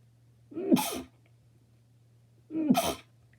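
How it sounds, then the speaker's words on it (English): Two loud, close sneezes about two seconds apart, each a sharp breathy burst after a short intake of breath, over a faint steady hum and with no talk. "And I'm gonna sneeze."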